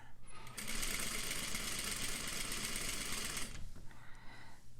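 A sewing machine stitching a bias-cut spaghetti strap runs in one steady, fast mechanical whir for about three seconds, then stops, leaving a quiet tail with faint handling noise.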